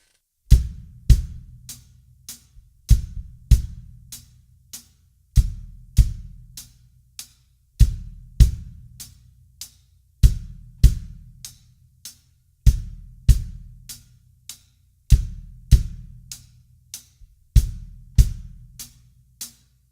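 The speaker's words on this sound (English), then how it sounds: "So with the bass drum and the hi-hat, that would sound like this." A steady drum groove: deep bass drum kicks with crisp hi-hat ticks in a repeating pattern, played alone and up close.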